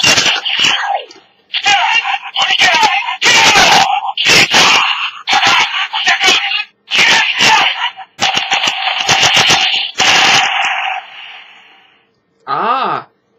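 Electronic voice and sound effects from a Kamen Rider OOO DX TaJa Spinner toy, with loud bursts of sung and spoken phrases, short pauses between them, and one last brief sound near the end.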